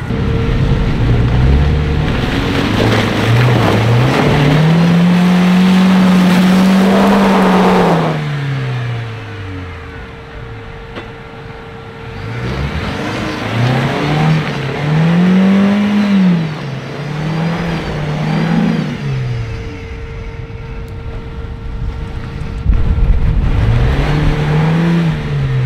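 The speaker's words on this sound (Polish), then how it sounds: "Frotka musi teraz kręcić kołami do tyłu i wyciągarka pomaga mu, żeby wyjechała sobie bez problemu" An off-road car, a Mitsubishi Pajero recovery scene, revs its engine hard in long rising and falling bursts as the wheels spin in reverse and a winch pulls, loud and close, with quieter gaps between pushes.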